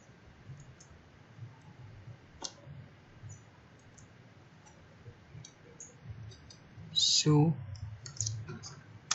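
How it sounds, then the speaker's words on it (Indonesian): Soft, sparse clicks of a computer keyboard as a command is typed into a Debian Linux terminal, with a brief busier burst of keystrokes near the end and low voices in the background. "Langkah pertama kita ketik"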